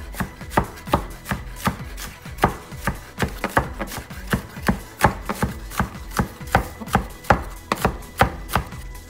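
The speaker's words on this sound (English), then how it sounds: "So I like to chop them really thin." Onions being chopped thinly with a knife on a cutting board, a steady run of crisp rhythmic chops, close and clear with no talking.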